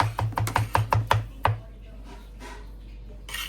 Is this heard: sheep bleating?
no